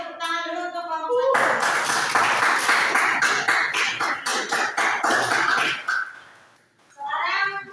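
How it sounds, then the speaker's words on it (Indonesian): A classroom group claps together in a burst of applause for a student group, lasting several seconds, with a voice speaking just before and right after it. "tepuk tangan dulu untuk kelompok"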